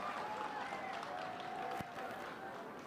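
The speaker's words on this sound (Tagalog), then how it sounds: "Sige, palakpak mo." Audience applauding at an oath-taking ceremony for newly elected local officials, a steady, fairly faint spread of clapping from a crowd with a sustained tonal hum in the background.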